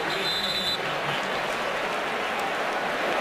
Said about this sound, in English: Jacob Shum getting a rare round of applause.